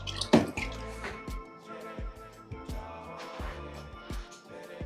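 Water runs into a catfish aquarium tank, with close drips and splashes over a low trickle.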